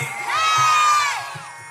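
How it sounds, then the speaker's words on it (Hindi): A crowd at a staged Ramayana performance cheers Hanuman's entry with a loud rising whoop-like shout that swells, holds and fades, over low murmuring. "इसे जोरदार तालियों से स्वागत"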